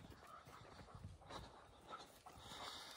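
A dog, an older dog with weak back hips, panting steadily and fairly close in a home dog-boarding setting, with soft breathy rhythm and faint whimpers, no talk.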